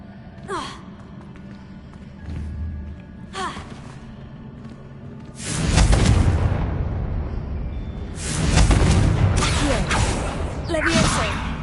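Confringo blasting spells in Hogwarts Legacy go off as bursts of rumbling explosions, two short early hits followed by heavier, longer blasts, with brief vocal gasps between them.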